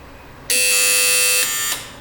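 A quiz show contestant's buzzer sounds once, a loud, harsh electronic tone lasting about a second before it cuts off.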